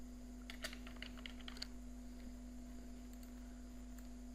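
Keys clatter in a quick burst of typing on a computer keyboard, then stop, leaving a quiet room with a steady electrical hum for the rest of the clip.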